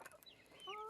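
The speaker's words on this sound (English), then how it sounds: "These are our younger chickens." Young chickens clucking in a homestead pen in winter, a few faint close clucks and short rising calls, with a thin crowing-like note near the end.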